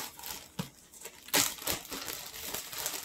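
Close, irregular crinkling and rustling of thin plastic, with a sharper crackling burst partway through, then continued scattered crinkles.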